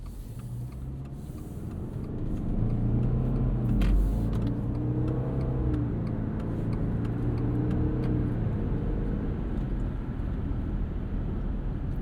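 A 2024 Subaru Outback Touring XT turbo wagon accelerating on the highway, its engine drone rising and falling in steps as the CVT mimics gear shifts, heard steadily from inside the cabin.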